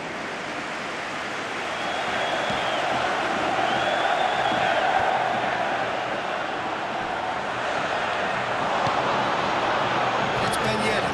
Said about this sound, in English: Crowd are reacting to this too.